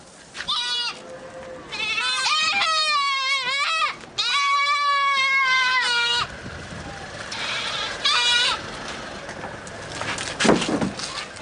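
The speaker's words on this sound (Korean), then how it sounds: "새로운 주인에게 낙찰된 염소는 낯선 상황이 싫은가 보네요." Goats at an Arabian Peninsula livestock market bleat loudly and repeatedly after being sold at auction, long wavering cries that come close together and then fade, with background voices and market noise.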